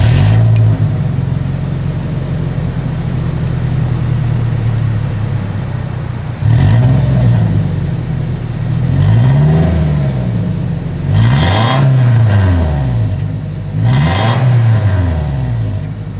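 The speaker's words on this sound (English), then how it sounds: "As always, here is that exhaust clip." A 2022 Toyota Tacoma idles steadily up close, then its exhaust barks through a series of quick revs, four short rising-and-falling blips spaced a couple of seconds apart, loud and with nobody talking.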